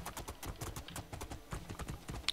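Horse hooves clip-clopping in Two Worlds 2, a quick, even run of close hoofbeats with no talking.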